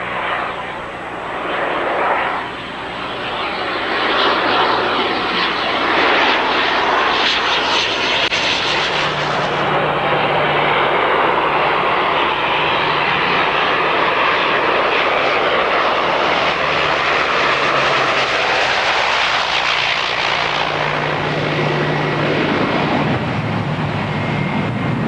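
An ATR-72 turboprop airliner, the 74-passenger Aerospatiale–Aeritalia model, flies past at the 1989 Paris air show: a loud, sustained propeller and engine roar that swells and holds steady for the whole stretch, with no talk.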